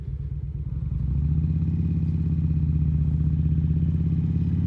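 A 2004 Harley Davidson Road King Classic cruiser idling and then building to a steady, loud low rumble with a regular lumpy throb, heard up close with no talk.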